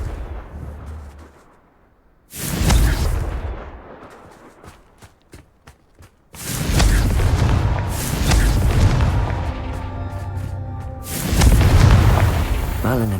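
Explosion spells go off in Hogwarts Legacy, making deep booming blasts that arrive in three heavy bursts with rumbling tails and crackle, loud and close, with a voice speaking between them.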